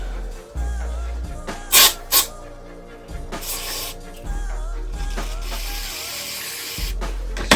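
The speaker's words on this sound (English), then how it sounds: "Spray some degreaser on that." Short hissing bursts of aerosol degreaser sprayed onto a Ritchey rear bicycle hub, two quick squirts then a longer one, close up amid light mechanical handling noises.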